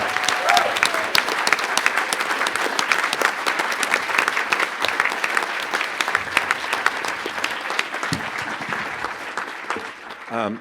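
A literary celebration audience gives a sustained round of applause for poets, dense steady clapping filling the room for about ten seconds before tapering off at the end.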